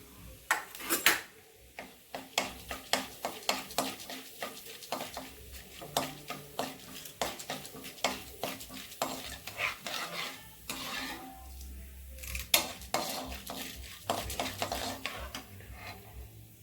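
Urad dal and chana dal fry in oil for rava semiya kichadi, heard as a soft background sizzle under a long run of repeated metal spoon taps and scrapes against the pan, fairly quiet and close.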